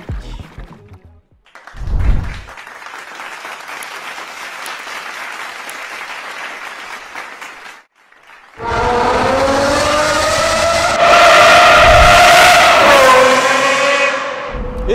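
A manual Aston Martin V12 engine roars loudly, first as a sustained broadband rush, then after a brief drop as a rich harmonic howl rising and falling through the revs.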